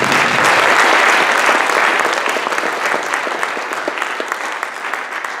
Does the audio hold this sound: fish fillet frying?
no